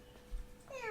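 A short, fairly faint rising meow near the end, attributed to a half-robot, half-cat creature, after a brief low thump.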